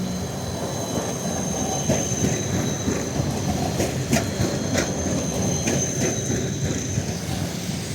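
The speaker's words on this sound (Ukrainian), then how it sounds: "От трамвай нарешті наближається до нас." A number 8 tram in Lviv rolls past during a snowstorm with a steady rumble, rattling wheels and brief metallic squeals, loud and continuous with no talking.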